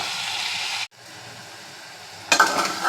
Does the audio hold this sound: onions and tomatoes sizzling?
yes